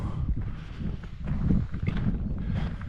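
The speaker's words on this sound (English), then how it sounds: "it's quite windy down here today" Gusty wind buffets the microphone in low, uneven rumbles outdoors on a deer hunt, rising and falling with no voices present.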